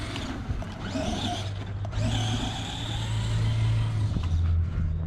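An Arrma Gorgon RC truck with a brushed electric motor drives continuously, giving a steady whining motor hum with rising and falling pitch as it accelerates, close by and fairly loud.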